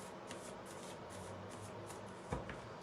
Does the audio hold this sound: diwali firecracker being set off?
no